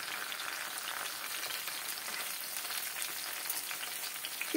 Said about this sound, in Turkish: Patlıcanları güzelce alt üst kızartacağız